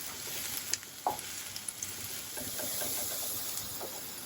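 Ingredients for Kerala-style crab thoran, salted onions softening without browning, sizzle softly in a hot pan, with a steady frying hiss and occasional light stirring scrapes.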